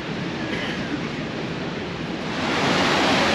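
A steady, broadband roar of rushing water from a 23-meter-high, 150-meter-wide waterfall, heard close and continuous, growing slightly louder toward the end, with no talk.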